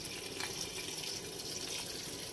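Water pouring steadily into a cooking pot while preparing Moroccan couscous with meat or vegetables, a continuous close splashing gush with no break.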